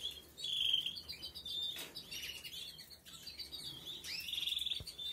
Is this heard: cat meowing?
no